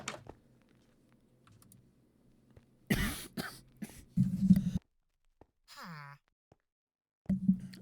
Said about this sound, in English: I'm sorry that you heard me cough for a second there.